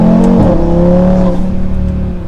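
A 2024 Audi RS3 accelerates hard at full throttle, its engine note loud and close. The pitch climbs, then drops briefly as it shifts, before the engine pulls on with a steady roar.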